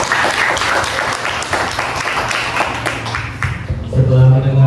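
A university student focus group audience claps for a participant. The applause is a brief patter of hand claps that fades near the end as voices and other sounds come in.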